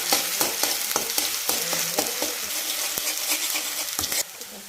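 Onion paste and cumin fry in hot oil in a pan, a close, bright sizzle broken by repeated stirring scrapes before the crackle suddenly drops quieter near the end, with no one speaking.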